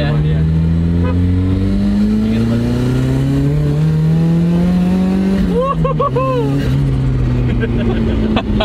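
A BMW E30 fitted with a swapped four-cylinder engine pulls hard in second gear, its engine tone rising steadily and loudly from inside the car, then briefly dipping and resuming. People talk over it.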